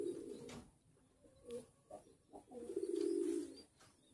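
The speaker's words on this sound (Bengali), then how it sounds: "আশেপাশে অনেক কবুতর এসে ঘুরতেছে আর দেখতেছে।" Several pigeons coo in low, throaty bursts close by, the longest and loudest near the end, with faint chirps mixed in and no talking.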